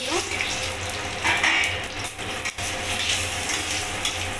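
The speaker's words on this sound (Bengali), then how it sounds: "তেলটা গরম হয়ে গেছে আমি ফোড়নটা দিয়ে দিলাম" Whole spices, including bay leaf, cinnamon, clove, cumin and cardamom, sizzle in a little hot oil for chicken soup, making a loud, steady crackling hiss up close.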